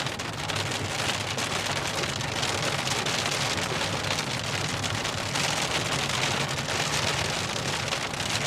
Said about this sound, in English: How are we running into rain?